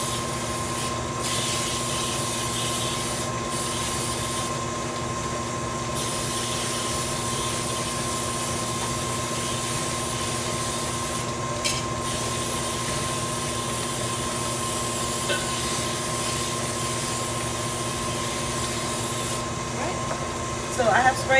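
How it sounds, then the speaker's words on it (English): Several hissing sprays of cooking spray from an aerosol can coating a fluted cake pan, short and longer bursts spaced apart, over a steady hum of background noise. "Always spray the pan very well, coating it"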